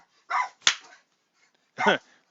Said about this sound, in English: That's my guard dog.